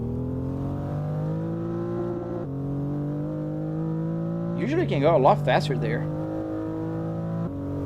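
Simulated car engine in Assetto Corsa holding a steady droning tone with stepped shifts in pitch, rising in a brief revving burst near the middle, while someone talks over it.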